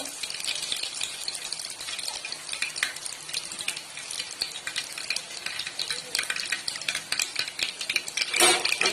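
Curry leaves and a pinch of asafoetida crackle in hot oil while being stirred in a pan, a steady close sizzle with scraping and a louder burst near the end.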